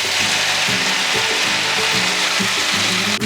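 Sliced cremini mushrooms sizzling in a pan for vegetarian lasagna, a loud continuous hiss with a rhythmic low scraping or chopping pattern repeating underneath, close up and without voices.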